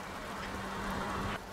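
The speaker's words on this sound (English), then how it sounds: "it's raining" Rain falling in The Sims 2 life-simulation game, a soft steady hiss of drops with a faint tonal hum underneath, quiet and continuous with no voices.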